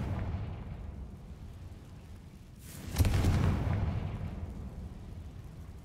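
Confringo blasting spell from Hogwarts Legacy going off as a single deep boom that swells and rumbles for a couple of seconds over a low steady game ambience.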